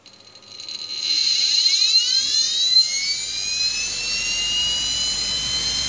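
A Sun hard disk motor with its platters mounted spins up, rising into a loud, steady high-pitched whine with climbing tonal sweeps that settle into a sustained whir, with no voices.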